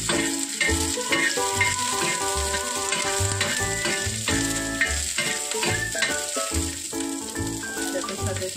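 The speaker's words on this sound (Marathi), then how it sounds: "टाकूया आपण लसूण सुद्धा थोडीशी भाजून घेऊया" Garlic roasting in a hot pan for a sweet-and-sour karonda chutney, a loud, continuous sizzle and crackle throughout with stirring noises mixed in.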